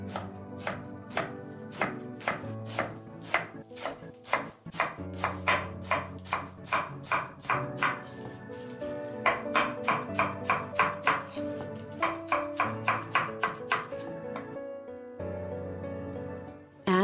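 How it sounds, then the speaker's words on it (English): A knife chops spinach stems and leaves on a cutting board, making rapid, evenly spaced sharp thuds in bursts across the whole stretch with brief pauses and no speech. "Chop the spinach, chop the stem parts a little finely, the leaf parts may be a little bulky."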